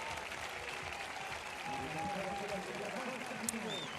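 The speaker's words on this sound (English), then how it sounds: "The crowd still giving Mujahedin Ghazal a huge round of applause" Crowd in an athletics stadium applauding a triple jumper at the 2018 Mediterranean Games, a steady, dense wash of clapping that lasts throughout, with a commentator's voice faintly mixed in.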